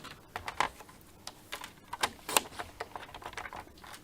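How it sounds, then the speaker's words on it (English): Merlot cardstock is trimmed in a string of quick, light, close snips and crisp ticking cuts, irregular in rhythm, fairly faint against a quiet room. "let's just cut a bit of a bigger length off of there just for the sake of trimming it away"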